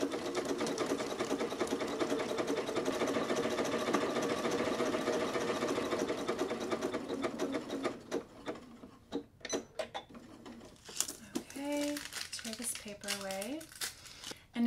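A sewing machine stitches the inseam of knit sweat shorts in a steady, close whir for about eight seconds, then stops. Scattered rustling and fabric-handling sounds follow.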